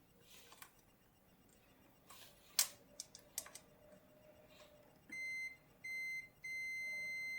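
Continuity tester probing the wiring inside a Miyako rice cooker, a few faint clicks of contact followed by three steady high-pitched electronic beeps, the last one sustained.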